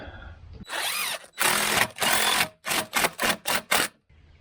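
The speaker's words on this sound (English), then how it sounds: "I ended up pre-drilling these two so that it didn't split" A power drill whines in a long burst, then another, followed by several short rapid trigger pulses, loud and close, pre-drilling wood for a ramp build.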